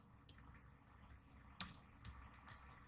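Quiet, close typing on a computer keyboard while entering code in the Arduino IDE, with irregular soft key clicks and a few sharper taps over low room hiss.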